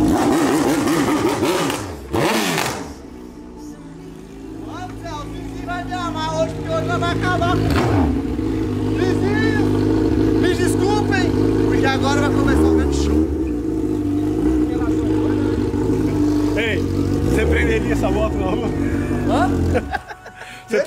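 A Honda CB1000 motorcycle engine revs hard and loud through most of the stretch, its steady roar rising and holding, with people talking over it and a short break near the start.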